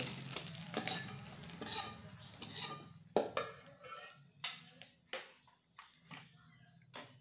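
Utensil scraping and clinking against a pan as small pieces of fried egg are lifted out, with a faint sizzle of oil underneath; several sharp scrapes and taps come close and fairly loud.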